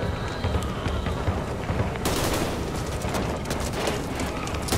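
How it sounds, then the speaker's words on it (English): A small in-game explosion in the shooter Back 4 Blood bursts into loud, dense crackling debris and rumble that persists, with no talk over it. "Yeah, small explosion."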